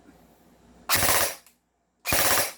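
An M4A1 Medusa airsoft rifle fires programmed five-shot bursts, heard as two rapid, loud, close mechanical rattling volleys separated by a short silence.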